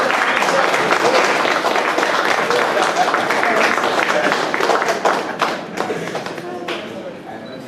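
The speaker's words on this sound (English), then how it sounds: "And a round of applause for the presentation." Loud, close applause from a student audience after an information technology capstone presentation, dense clapping with a few thuds and some voices, tapering off toward the end.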